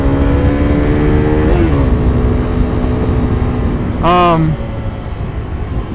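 A 2015 KTM RC390 motorcycle engine runs steadily while riding, its tone rising and falling briefly with a short sharp rev burst near the end, continuous and close under wind noise.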